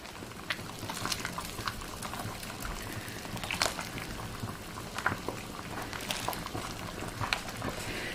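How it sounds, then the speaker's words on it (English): Hot water pours over cabbage leaves for country cabbage rolls, a continuous bubbling, splashing trickle with scattered drips, close and moderately loud, with no talking. "as you pour the hot water over top, they loosen all by themselves"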